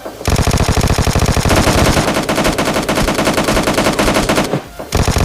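Sustained rapid automatic gunfire in PUBG Mobile Lite, loud and close, continuous bursts with a brief pause near the end.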